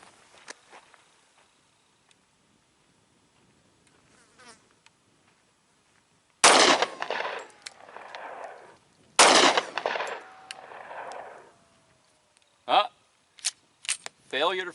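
Pistol shots from a Shield firing 200 grain handloaded ammunition at an outdoor target: a few loud, sharp reports with ringing echo tails, followed by smaller clicks and knocks.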